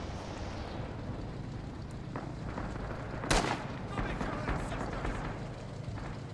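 A single sharp rifle shot cracks out mid-way through a World War II shooter match, M1 Garand fire on a Battle of the Bulge map, over a low rumbling battlefield ambience with distant reports afterward.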